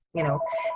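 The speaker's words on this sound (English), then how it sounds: "sorry about the phone" A telephone rings once in a brief, clear tonal burst, loud and nearby, with harmonic layers that shift partway through the ring.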